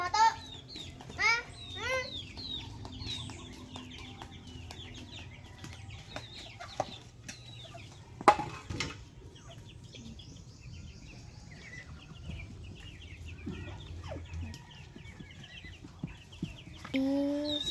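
Chickens cluck intermittently around a rural Filipino home with ducks, short clucks and calls scattered across the scene, with occasional sharp bursts and a voice and other people talking at times.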